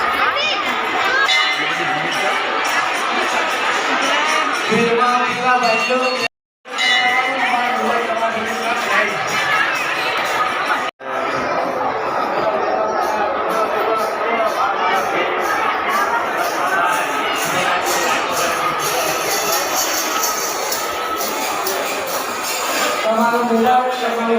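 Dense crowd chatter fills a long queue at a busy temple fair, loud overlapping voices and children shouting continuing throughout, with two brief cut-outs.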